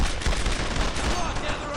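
Dense gunfire in the World War II shooter Brothers in Arms: Earned in Blood, a steady loud rattle of shots over the whole stretch, with shouted voices mixed in.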